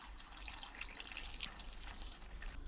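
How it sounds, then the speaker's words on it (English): Water is poured into a newly installed sand point well pump to prime it, making a steady, faint close-up trickle and splash with no talk. "Now we just gotta prime the pump. Fill it with water."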